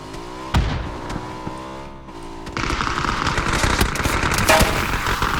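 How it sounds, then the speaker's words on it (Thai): Rapid bursts of gunfire in PUBG play out in a busy battle soundscape, with sharp cracks and a vehicle engine droning underneath, the firing growing denser and louder partway through. "โดนยิงแบบรัวครับ"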